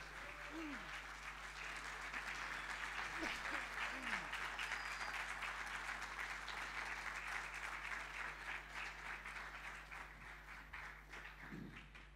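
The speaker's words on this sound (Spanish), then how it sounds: "Vamos a darles un fuerte aplauso" A room full of people gives sustained applause, a dense wash of many hands clapping at moderate distance, with brief voices and a faint steady hum underneath.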